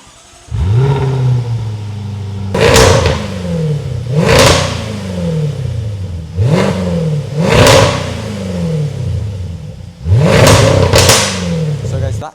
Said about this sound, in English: That is the Jaguar F-Type SVR, a very special car with an incredibly special sound